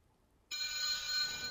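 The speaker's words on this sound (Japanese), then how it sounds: "お、また電話" A video game telephone starts ringing abruptly after a brief quiet moment, a loud, steady electronic trill that holds on continuously to the end.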